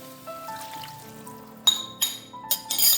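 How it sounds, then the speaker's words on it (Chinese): Prepared seasoning sauce is poured into a pan of rice-paper tteokbokki, the quiet pour followed by several bright splashes and clinks near the end, close up with no voices. "就把刚刚调好的调味汁倒入锅里面"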